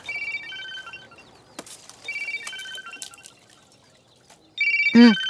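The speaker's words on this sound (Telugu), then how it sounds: "ఫోన్ వస్తుంది వినపడ్డలా ఫోన్ వస్తుంది" A phone ringtone plays a bright repeating melody in bursts, with clicks between phrases and a rising voice-like sound at the end.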